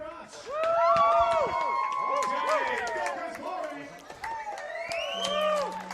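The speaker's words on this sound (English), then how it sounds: "you can hear the crowd announcer just announcing" A stadium announcer's voice booms over the PA at an MLP Australia championship-court semi-final in Brisbane, echoing and continuous, with crowd murmur and noise underneath.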